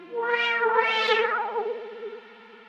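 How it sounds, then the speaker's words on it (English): An analog Juno synth rings out with a big reverb splash and delay as the track drops into a break: two swelling sustained notes that smear and fade into a long echoing tail. "do a nice big reverb splash and a delay on this analog Juno synth as it drops into this little break."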